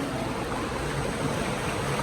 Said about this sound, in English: I can hear the water rushing. Rushing so fast.